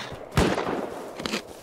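Gunfire in the Rust video game during a wipe-day clan fight, a sharp loud shot followed by a second burst a moment later.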